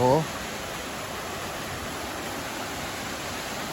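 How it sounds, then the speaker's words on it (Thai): A forest waterfall roars with a steady, even rush of falling water that carries on unchanged after a brief voice at the very start. "มาดูน้ำตกกันเลยครับ"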